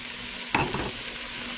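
Taco soup being stirred in a pot, with a single brief scrape of the spoon over a constant hiss of cooking, close by.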